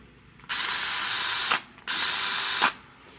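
A small 7.4-volt Snap-on cordless drill whirs in two short bursts, each about a second long, revving up and cutting off with a brief pause between.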